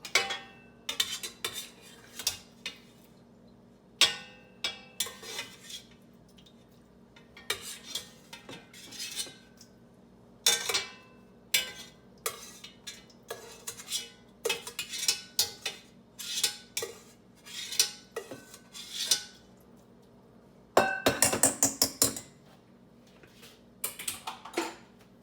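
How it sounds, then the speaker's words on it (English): A metal spider strainer lifts pork out of a pot, giving scattered close clinks and scrapes of metal against cookware, with quiet pauses between clusters of sharp knocks. "Just grab a spider and move out the pork."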